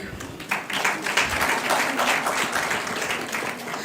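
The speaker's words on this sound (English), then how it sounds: "This is the part where you can all clap." An audience at a women's summit claps, a steady, moderately loud wash of applause that swells a little after the start and holds to the end.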